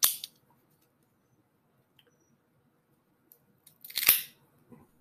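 A cigar being cut with a cutter, heard as a sharp close snip at the start, then near silence, then a crisp clipping and rustle about four seconds in.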